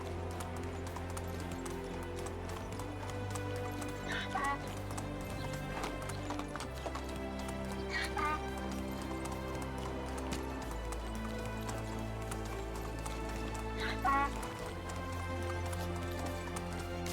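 A horse gallops in steady, rhythmic clip-clop hoofbeats inside the medieval farming game Medieval Dynasty, continuous and fairly loud over a droning background music bed throughout.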